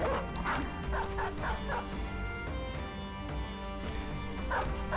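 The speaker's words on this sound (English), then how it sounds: "That dog did not do what I wanted it to." A video game dog barks and yips in quick, repeated bursts with a few whimpering notes, fairly loud and close over steady game sound.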